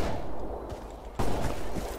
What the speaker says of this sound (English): Distant gunfire.